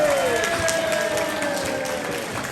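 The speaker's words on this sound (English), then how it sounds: "I think we should give her a round of applause" Applause and cheering from a crowd at an inaugural reception for a councillor who served as charity auctioneer, sustained clapping throughout with a faint whistle-like tone gliding down beneath it.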